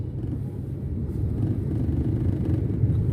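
Inside the cabin of a Daihatsu Sigra on the move, a steady low engine rumble drones for a few seconds with no talk over it.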